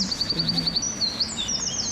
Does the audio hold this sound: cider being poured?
no